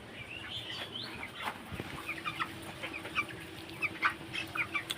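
Chickens cluck and call softly in a poultry shed, a few short clucks repeating near and at mid distance over a low background hum.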